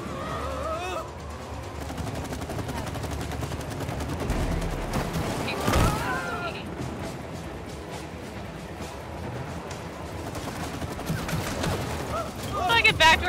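Rapid gunfire bursts from the It Takes Two video game run through most of the stretch alongside game effects and a loud swell in the middle, with people talking over it throughout.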